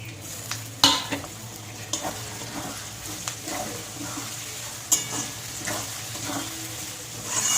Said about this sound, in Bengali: এবার দিয়ে দেবো দুটো কেটে রাখা টমেটো